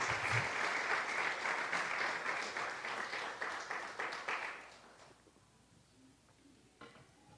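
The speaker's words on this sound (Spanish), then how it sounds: "Dele ese aplauso a Dios con todo su corazón." A church congregation applauds during a Good Friday sermon, steady broadband clapping for about five seconds that fades into quieter room noise with a few scattered claps.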